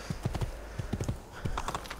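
Horse hooves clip-clop steadily in Assassin's Creed II while the character rides, a quick, even run of hoof hits at moderate level with no talk over them.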